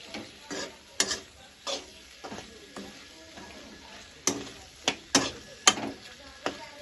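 Pasta being mixed with a utensil in a pan, giving intermittent scraping and clattering strokes at an irregular pace, fairly quiet and close, with no talking.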